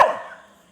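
A dog gives a single loud, close bark that quickly fades, heard alone.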